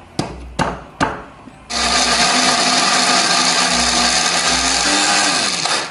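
An electric blender grinds chili peppers with a little water or oil into a spice paste, its loud steady motor whir starting after three sharp knocks and running on with a slight drop in pitch near the end.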